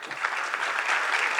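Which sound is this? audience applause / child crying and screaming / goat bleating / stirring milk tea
audience applause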